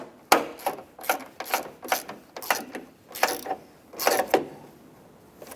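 A ratchet tightens the mirror bolts on a 2003-2021 Chevy Express 3500 van, a series of close, quick clicking bursts in an uneven rhythm with short pauses between strokes.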